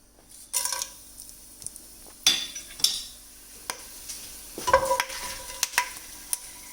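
Dry masalas spluttering and popping in about five tablespoons of hot oil for a prawn biryani, with sharp irregular crackles and bursts over a steady frying hiss, close by and with no talking.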